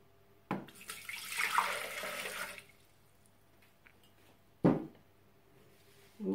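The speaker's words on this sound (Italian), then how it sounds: "Andiamo a mettere all'interno del boccale l'acqua." Water is poured into a Thermomix bowl, a short splashing pour lasting about two seconds, followed later by a brief clunk and a final start of another sound in a quiet kitchen.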